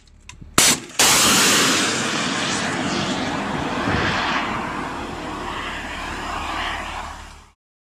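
A Javelin anti-tank missile test launch: two sharp blasts open, then a loud sustained roaring rush of the motor that slowly fades as the missile flies away, with no talk.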